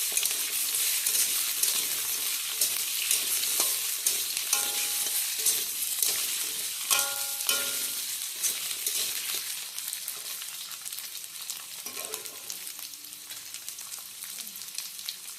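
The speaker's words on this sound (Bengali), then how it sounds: "আলু দিয়ে ভালোভাবে নেড়ে চেড়ে নেওয়া হবে।" Potatoes frying in a pan, stirred with a spatula before ridge gourd is added: a steady close sizzle with repeated scraping strokes and occasional clinks of the utensil against the pan.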